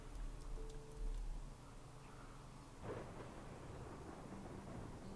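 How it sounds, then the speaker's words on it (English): A dry thunderstorm in the video game Rimworld, with a deep rumble of thunder swelling in about halfway through over steady low ambient noise and faint ticking, all fairly quiet. "this is a fucking dry thunderstorm"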